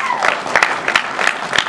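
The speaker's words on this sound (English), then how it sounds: "Let's give one more round of applause for all of our candidates." Audience applause for presidential candidates at a university event, a short burst of clapping with crisp, uneven claps close by, fairly loud and steady throughout.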